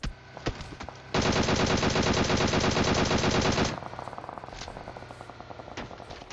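Gunfire in PUBG Mobile: a few sharp single shots, then a long, loud, continuous burst of automatic gunfire lasting over two seconds, followed by fainter scattered shots.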